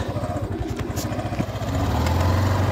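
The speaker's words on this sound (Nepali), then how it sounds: "बाइकमा भाइले कुदाउँदैछ म पछाडि बसेर" Motorcycle being ridden with a passenger on the back, a close, rumbling engine with a rapid pulsing beat that rises in pitch and loudness toward the end.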